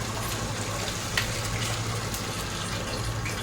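Hot water pours steadily into a pot of white rice, a continuous broadband splashing rush lasting throughout at close range with no talking.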